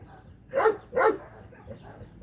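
A large Anatolian shepherd dog gives two quick, loud barks close by, then falls quiet apart from faint background noise.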